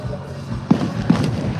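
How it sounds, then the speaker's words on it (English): Outdoor fireworks at an evening gathering with a live band nearby, two distinct booming bursts about half a second apart over a noisy crowd backdrop. "Oh, is that the fireworks already?"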